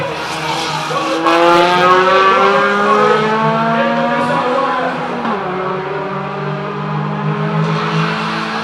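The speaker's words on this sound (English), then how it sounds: "But here comes car number 163, Antoine Forrester." A circuit race car engine at Jamwest Speedway roars past at close range, its pitch dropping as it speeds by, with a brief tire squeal and steady engine drone continuing afterward.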